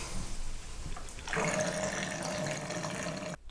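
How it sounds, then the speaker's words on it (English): Water drains from a kitchen sink being cleaned, a quiet running, gurgling wash that swells after a soft start and cuts off abruptly at the end. Nobody speaks. "So you want to let the water drain."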